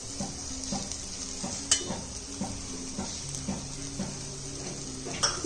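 Tomatoes, onions and drumstick leaves are stirred in a pan for a weight loss biriyani kanji, with repeated spoon scrapes and taps against the pan over a steady soft sizzle.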